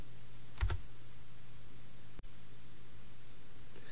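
A single computer keyboard key press while working in a Microsoft Excel spreadsheet: one short, soft click near the start, then a quiet background hum for the rest.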